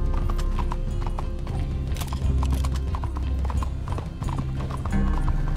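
In the Red Dead Online video game, a horse gallops with rapid, loud hoofbeats up close, and several whinnies ring out over the running.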